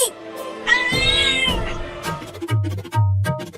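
A cartoon cat meows in a Hindi comedy cartoon, giving several drawn-out, whiny meows with rising and falling pitch, close and loud, followed by short low thumps and bumps.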